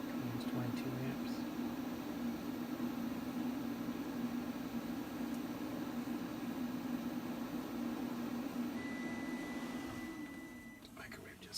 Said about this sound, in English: Microwave just quit.